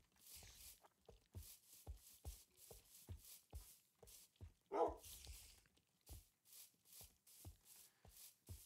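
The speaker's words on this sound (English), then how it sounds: "The dog's chasing a skeleton." A dog in Minecraft barks and yips over and over in quick short bursts while chasing a skeleton, with soft footsteps between the barks.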